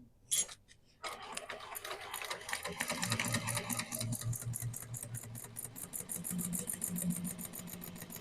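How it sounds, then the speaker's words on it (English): A sewing machine fitted with a zipper foot stitches a seam, starting after a few brief clicks and then running in a quick, steady mechanical patter at close range, alone without voices. "Okay, so we're going to sew this with the seam allowance in the pattern."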